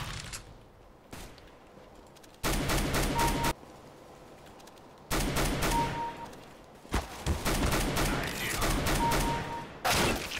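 Bursts of rapid gunfire from Counter-Strike: Global Offensive come in several loud clusters separated by quieter gaps, with shots crackling close and sharp.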